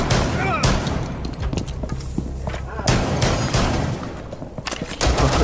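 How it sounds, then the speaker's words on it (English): Shotgun blasts in Rainbow Six Siege, several loud booming shots spread across the clip among other gunfire and game noise, with excited voices talking over the action. "Pre-fire with the shotgun"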